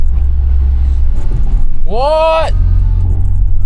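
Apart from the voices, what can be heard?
car engine rumbling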